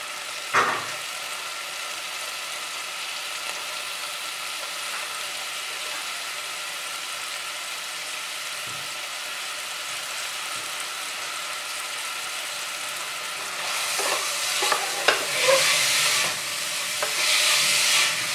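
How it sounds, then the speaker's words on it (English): Crushed onion stir-frying in a pan on a stove, a steady frying hiss and sizzle that rises and crackles more loudly toward the end, with stirring scrapes and no talk. "we'll add crushed onion into it, and we'll give a little stir fry to it"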